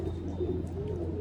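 A pigeon at a Lucknow pigeon market coos in a low, soft, continuous murmur close by, over a faint steady background hum.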